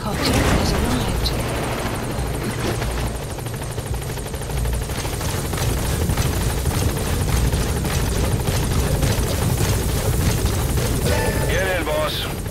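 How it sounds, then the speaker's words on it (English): A support helicopter arrives in the game Metal Gear Solid 5: The Phantom Pain, its rotors a loud, continuous chopping roar throughout, with radio voices speaking over it. "Support helicopter has arrived."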